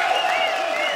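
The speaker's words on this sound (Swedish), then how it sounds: "stor applåd till Rickard Svanström" Audience applause at Rockhelgen Mariestad 2014, a rock festival, for Rickard Svanström: a dense, steady wash of clapping and crowd noise that holds at a constant loud level throughout.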